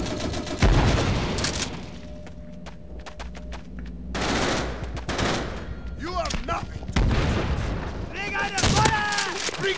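M1897 Trench Gun shotgun blasts in Call of Duty: World at War on Wii, team deathmatch on the Upheaval map, a few loud sharp booms spaced apart amid other gunfire, with voices talking in between.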